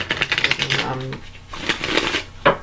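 A deck of tarot cards is riffled and shuffled several times in quick bursts of papery flutter, close and clear, with a voice speaking around the shuffles.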